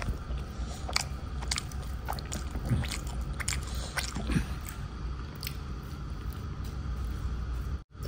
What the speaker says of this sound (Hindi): हाथों से खा रहा हूँ, आपको दिखा रहा हूँ